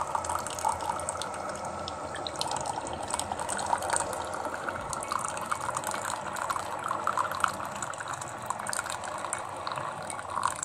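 Water pours in a thin, steady stream from a Kitfort KT-2502 electric thermopot for several seconds, with a soft splashing texture and faint mechanical ticking underneath, no talking.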